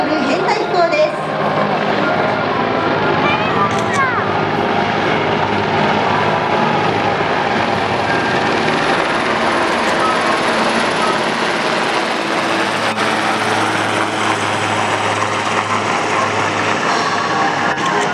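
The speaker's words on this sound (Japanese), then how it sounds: "上空からは消防ヘリ、ひばり、つばめ、かもめの3機による編隊飛行です" Three fire helicopters flying in formation drone overhead in a steady, loud roar at a water-spraying fire department display at Harumi Pier, Tokyo, with a voice talking over the noise.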